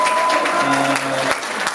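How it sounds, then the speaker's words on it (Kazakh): Audience applause at a music college diploma ceremony in Kyzylorda, a sustained wash of clapping from a hall full of people, loud and even throughout, with a faint tone humming underneath. "Өздеріңізге шапалақ ұрып қойсаңыздар."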